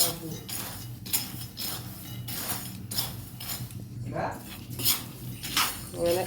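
Roasting peanuts are stirred in a pan with steady, repeated scraping and rattling strokes, close and fairly loud, with no talking.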